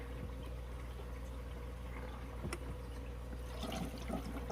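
Faint running water trickles and gurgles steadily beneath a low hum as it fills a Fluval 407 aquarium canister filter, with a brief splashy burst near the end.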